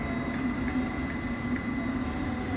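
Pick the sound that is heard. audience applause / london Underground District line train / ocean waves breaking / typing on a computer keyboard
london Underground District line train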